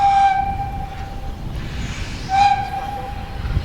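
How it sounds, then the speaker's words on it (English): A narrow gauge steam freight train works up a gradient, its whistle sounding two clear tonal blasts over a steady low rumble of the locomotive and wagons nearby. "The freight train, he got halfway up here, as you saw, and then he's backed off to have another go at it."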